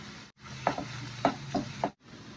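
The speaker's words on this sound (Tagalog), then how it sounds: "Magsasaute tayo ng onion garlic." Onion and garlic sautéing in a pan for a marinara sauce give a steady, close sizzle with a few soft scraping stirs, cut briefly twice by short silences.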